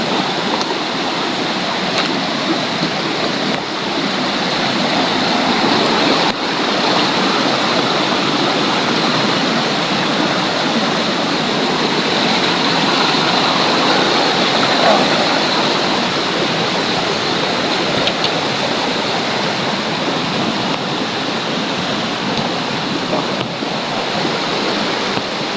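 A flowing stream, water rushing loud and steady close by in an unbroken broadband wash with no voices.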